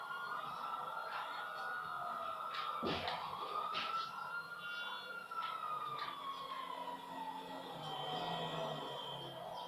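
A police siren in the video game GTA V wails in long rising and falling sweeps, moderately faint over a steady background hum, with a brief thump partway through. No speech.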